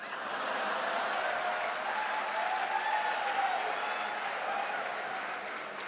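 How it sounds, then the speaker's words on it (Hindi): Sustained audience applause fills the room after a satirical joke at a Hindi comedy or poetry event, a steady dense wash of clapping at moderate level with no one speaking. "व्यंग पर तालियां तो अब आपकी अब उठेंगी।"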